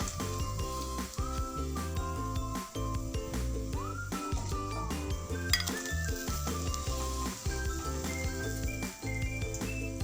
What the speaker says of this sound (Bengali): তুলে নিয়ে বাকিগুলোও একইভাবেই ভেজে নেব।